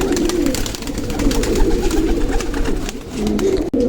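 Soft, throaty pigeon cooing rolls on continuously, several birds murmuring close by in overlapping low warbles.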